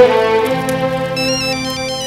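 A phone ringtone plays loudly and close, a melodic electronic tune with sustained tones, heard alone without talking.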